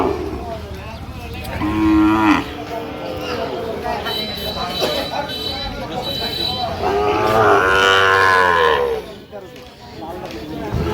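Sahiwal cattle at a livestock market in Comilla give loud, drawn-out moos, one short call early and a longer bellow later, over busy crowd noise and people talking nearby.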